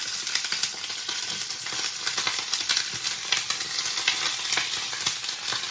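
Stuffed peppers sizzle steadily in a covered pan on the stove, a loud continuous frying hiss with small crackles and pops throughout, no one speaking.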